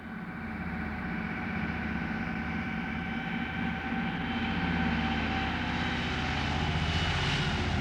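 A Caribou propeller transport aircraft circles back to land at Thule with a suspected engine fire, giving a steady, moderately distant engine drone that swells slightly toward the end, with no voices.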